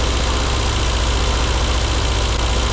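A classic Mini Cooper engine idles steadily and loud, a deep low rumble with vibration that sounds uneven, its RPM wandering rather than holding steady; no voices.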